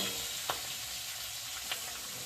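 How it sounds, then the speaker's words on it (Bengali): Small shrimp fry with cumin in oil in a pan, a steady moderate sizzle and crackle heard up close, broken by a couple of brief stirring scrapes, and no talk. "দিচ্ছি মাছগুলো আমি বেড়ে চেড়ে ভালো করে ভেজে নেব"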